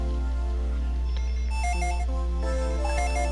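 A phone rings in the Dragon Ball Z: Legacy of Goku 2 video game, its chirpy electronic ring repeating in bursts over looping background music and a steady low hum.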